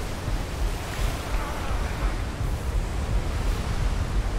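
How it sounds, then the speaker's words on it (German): Storm wind and breaking waves at sea in the video game Atlas, a dense, continuous roar of rushing air and surf that stays loud and even from start to finish with no voices. "Mitten Mang hier durch den Sturm."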